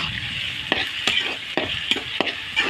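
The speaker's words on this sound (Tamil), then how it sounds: "தக்காளி போட்டு நல்லா வதக்கணும்." Chopped tomatoes sizzle in hot oil with onion, curry leaves and coriander for neem flower kuzhambu, a steady close frying hiss broken by about six sharp scrapes of a spoon stirring the pan.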